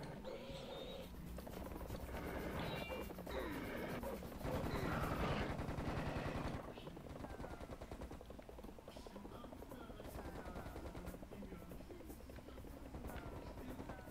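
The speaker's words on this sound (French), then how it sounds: "J'entends qu'on me tire dessus, mais je vois pas où." Gunfire and explosive combat in the first-person shooter Serious Sam, a dense, loud stretch of shots and roaring action that swells in the middle, with steady game noise throughout and no voice over it.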